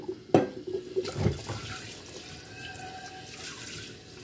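Water running from a tap into a sink while rinsing rice, with a couple of clunks and splashes early on, then a steady gushing flow.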